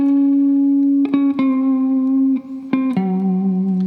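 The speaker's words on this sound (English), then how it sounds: "If you play the bass line on its own, it's basically going to sound like this." The bass line of a song is played alone on a heavily effected instrument as sustained, buzzing held notes that change pitch a few times, loud and close.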